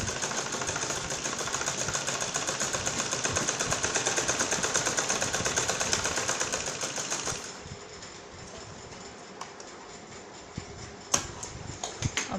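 An electric sewing machine stitches around a fabric neckline with a lace frill, running loud and steady for about seven seconds, then stopping, leaving quieter handling noises and a few faint clicks.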